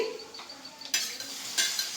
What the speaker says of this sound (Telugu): తాలింపు పెడుతున్నాను టమాటా పచ్చడి